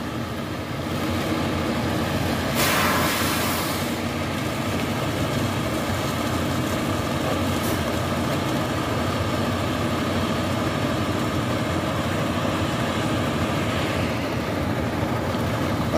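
A tractor engine idles during a mechanized sugarcane harvest, a steady low rumbling hum that runs without a break at moderate loudness, with no voices.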